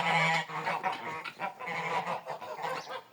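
Domestic geese honk repeatedly close by near their nests during evening egg collection, a rough, nasal series of calls overlapping one another, loud and near.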